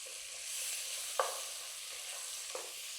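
Chopped tomatoes sautéing with onion in a pan for butter chicken, a faint steady sizzle with two brief stirring scrapes, quiet and without talk.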